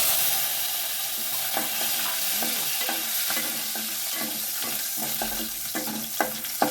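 Sliced garlic cloves sizzle and crackle steadily in hot oil in a pan while being stirred, a close, continuous frying hiss with occasional scraping clicks, for mint rice.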